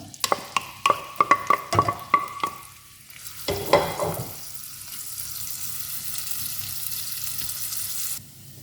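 Onions hit hot oil with lemon juice in a pan for homemade tuna salona, giving a rattling burst of spoon scrapes and clatter before settling into a steady, close sizzle that hisses on alone.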